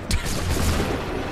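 A musket volley in Assassin's Creed 3 opens with a sharp crack, then a dense rolling rumble of gunfire that holds loud and steady for the rest of the moment.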